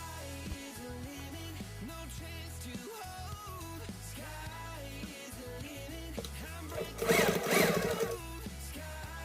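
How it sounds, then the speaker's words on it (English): Sewing machine stitching the side seam of a small men's fabric purse, a continuous close mechanical hum with shifting pitch and a brief louder rattle near the end. "So in the left side now, I'm going to stitch the right side"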